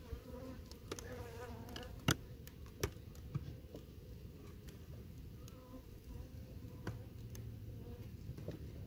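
Honey bees from a caught swarm of about two and a half to three frames, dark colored, drone a steady close buzz inside a hive box, with a few sharp clicks and knocks from the frames and equipment.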